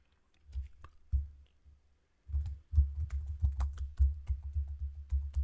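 Keys clack on a computer keyboard while XPath syntax is typed: a few isolated keystrokes, a brief pause, then a steady run of quick typing, close and clear.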